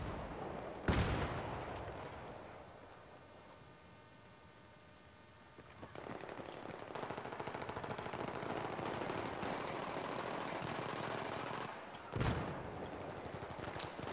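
Bursts of automatic gunfire and explosions in the Battlefield 3 multiplayer video game, with dense continuous shooting, two loud sharp blasts near the start and near the end, and sustained rattling fire through the middle, no talk.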